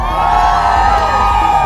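Protest crowd at Thailand's Ministry of Finance booing together on cue, opposing cuts to the elderly living allowance: a loud, sustained massed din of many voices, steady throughout.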